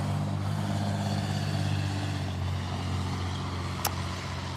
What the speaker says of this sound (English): Pause for a loud truck